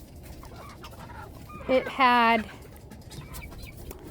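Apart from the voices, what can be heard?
chickens clucking in a pen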